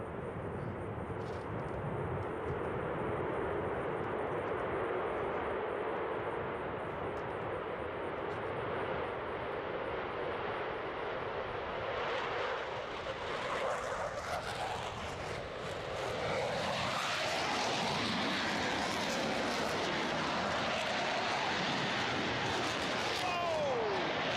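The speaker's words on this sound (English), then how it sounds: "Let's watch and listen as they start rolling down the runway, followed by their high-performance takeoffs." High-performance jet aircraft roll down a runway and take off, a continuous broad roar that builds and brightens into a rising, loud engine whine midway through, heard from a distance with faint crowd noise.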